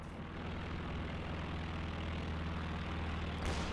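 Recon plane engine in Company of Heroes 2, a steady droning propeller hum that stays even and moderately loud throughout, with no clear approach or fade.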